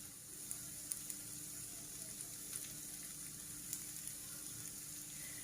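Peas frying in oil in a pan give a steady, faint sizzle with occasional small crackles and pops over a low background hum, heard close and without talk.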